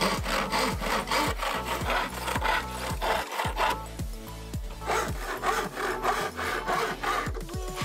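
Hand saw cutting a wooden board to size, a steady rhythmic back-and-forth rasp of strokes, close and fairly loud, continuing alone without talk.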